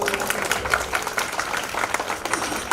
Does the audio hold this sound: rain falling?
no